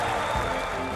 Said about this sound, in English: Well-deserved applause for a landmark moment in the race's history